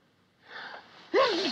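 A single sharp sneeze bursts out after a brief breathy intake, close and loud, with no talking.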